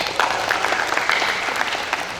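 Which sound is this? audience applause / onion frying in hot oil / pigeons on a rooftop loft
audience applause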